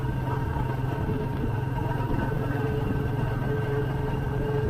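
Royal Enfield Meteor 350 motorcycle cruising on a highway at night, with a steady, even engine drone and wind rumble that holds constant throughout.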